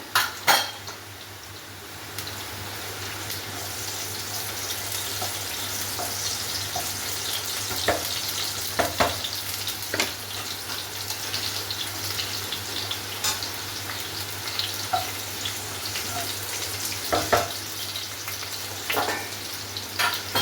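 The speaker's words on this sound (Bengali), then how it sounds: "ওই কড়াইতে আলু ভাজা হচ্ছে আমি এই কড়াইতে পেঁয়াজটা ভেজে নেবো" Potatoes and onions fry in oil in a kadai, with dried red chillies, a bay leaf and whole garam masala, giving a steady close sizzle broken by sharp clinks and scrapes of a metal utensil against the pan, with no talking.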